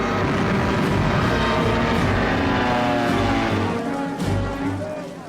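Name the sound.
Stuka dive bombers and aircraft flying overhead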